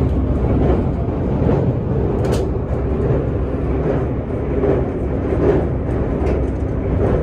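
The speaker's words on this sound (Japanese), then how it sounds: "そして列車はその先ずっと千葉方面に向かって通過をしていきます。" Special express train running along the line toward Chiba, heard from on board as a loud, continuous rumble with rhythmic rail clatter repeating every second or so.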